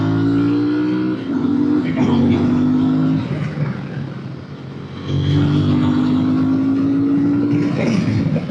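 Moto Morini motorcycle engine pulling hard in second gear on a road ride, a loud steady drone whose pitch climbs twice, with rushing wind noise and a voice talking over it at times.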